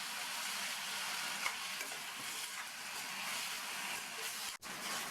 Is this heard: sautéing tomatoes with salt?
yes